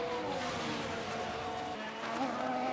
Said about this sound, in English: The car as a whole doesn't sound pleasant.